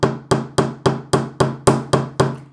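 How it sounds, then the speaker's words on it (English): A hammer strikes jewelry wire on a metal bench block nine times in an even, steady rhythm, each blow sharp, ringing and close. "you're just going to begin hammering lightly the base of the piece of wire"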